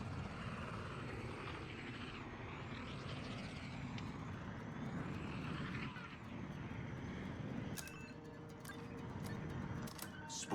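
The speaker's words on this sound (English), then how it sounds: "Spooling the hyperdrive." A spaceship hyperdrive spools up in a video game, a loud sustained engine roar with rising and falling whine, later joined by clicking and beeping tones.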